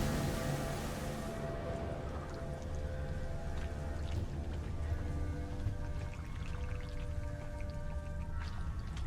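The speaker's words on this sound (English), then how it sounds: "Looks like rain." Rain in The Witcher 3 video game falls as a steady, dense patter over a low, continuous ambient drone, even and moderately loud throughout with no voices.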